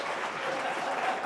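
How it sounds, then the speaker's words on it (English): A theatre audience claps and cheers for a comedian being welcomed onto the stage, a dense, steady wash of applause with no single voice standing out. "So after 3, clap and cheer for Tez Ilyas."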